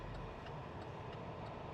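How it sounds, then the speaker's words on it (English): A car's turn signal blinker ticking steadily inside the cabin, about five regular clicks under a constant low engine hum, faint and close. "Blinker works."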